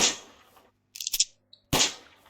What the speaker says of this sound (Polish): Chcę przetestować broń.